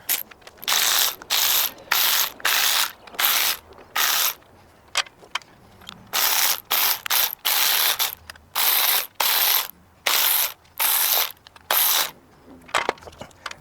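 Ratchet wrench loosening 10 mm bolts on the timing cover of a 2.0L Hyundai Elantra, close and crisp bursts of rapid clicking repeated in short runs with brief pauses between.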